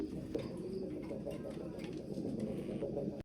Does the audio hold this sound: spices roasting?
no